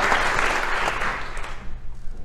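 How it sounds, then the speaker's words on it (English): Applause from an audience at an annual showcase evening, a dense burst of clapping that tapers off over a couple of seconds. "We get another round of applause for our new president and CEO of the Chamber of Commerce"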